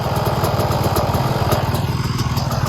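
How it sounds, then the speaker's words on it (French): Motorcycle engines warming up idle loudly and steadily up close before a sand race at Le Touquet, a continuous throbbing rumble with no voices. "on fait chauffer les motos"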